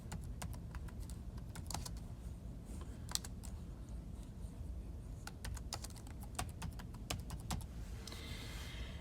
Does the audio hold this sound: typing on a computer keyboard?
yes